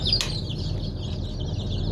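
Many small chicks cheep in high, overlapping chirps, a continuous busy chorus close by, with a brief rustle near the start.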